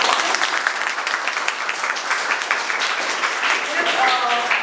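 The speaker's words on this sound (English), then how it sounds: "So they actually deserve that clap and applause." Applause for the ESET team breaks out during a field and exposure visit to an incubation unit in Dehradun, a steady, fairly close patter of clapping with a voice rising briefly near the end.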